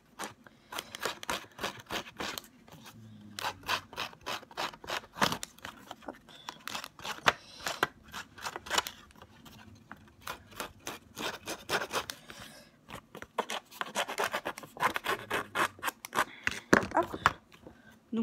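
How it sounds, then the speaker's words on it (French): Rapid, irregular scraping and rasping strokes of a tool rubbing along a paper edge, close and dry, repeated in quick bursts with brief pauses. "user le bord d'un papier"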